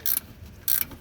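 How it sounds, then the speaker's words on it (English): Harmonic balancer pulley being pressed onto a car's crankshaft with an installer tool, two short, sharp ratcheting clicks close by, separated by a brief quiet gap. "I am essentially driving the pulley on the car"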